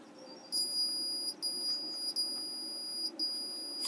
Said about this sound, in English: Now to test again with the multimeter in continuity mode,